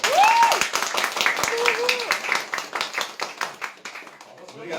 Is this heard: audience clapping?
yes